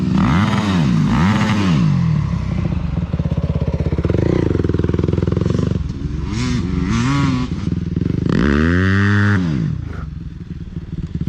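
A heavy four-stroke motorcycle races around a grass track, revving hard and close with repeated rising and falling engine sweeps as it accelerates and backs off through turns.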